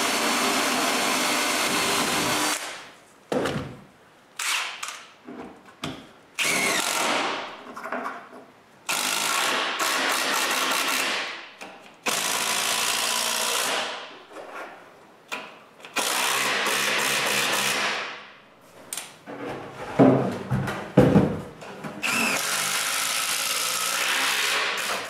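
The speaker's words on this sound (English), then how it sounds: "Then I screw them in place." A power drill drives screws to fasten wooden filter boxes onto tie beams for a workshop dust filtering system, in a series of loud whirring bursts separated by short pauses.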